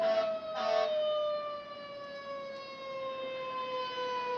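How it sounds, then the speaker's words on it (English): A fire engine siren wails outside in the city. Its steady, slowly falling tone is distant and fairly faint, with a couple of brief louder bursts near the start. "if you're hearing fire engines and all that sort of thing, that's why"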